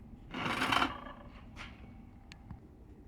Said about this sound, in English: With the pencil ready, I trace the lines.